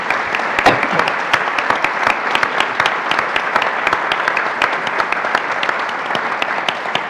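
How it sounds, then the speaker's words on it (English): An audience at a faith event applauds the livestream and lights-and-sound crew, a steady, dense clapping that runs throughout at fairly close range with a few sharper individual claps poking out. "a round of applause"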